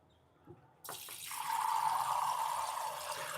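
Water gushes from a filtered kitchen tap into a coffee maker's reservoir, starting abruptly after a faint click and rushing steadily, close and moderately loud.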